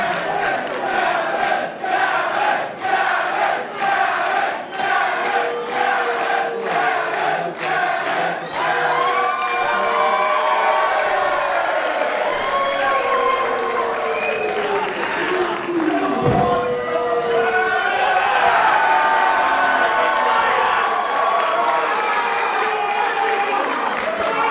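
A pro wrestling crowd at an invitational tournament claps and cheers loudly, rhythmic clapping giving way to rising roars and shouts, with a commentator talking over the noise.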